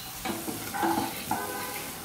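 Onions frying in a pan while being stirred, a close sizzle with a few scraping stir strokes of the utensil against the pan.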